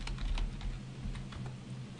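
Rapid keystrokes on a computer keyboard as a shell command is typed, a steady close clatter of keys with no voice over it.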